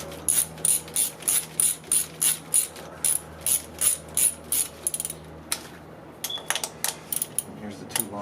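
A ratchet with a 10mm socket loosens engine bolts on a 2003 Toyota RAV4 1AZ-FE, giving a steady run of about a dozen rhythmic clicking bursts up close, then scattered clicks and clatter.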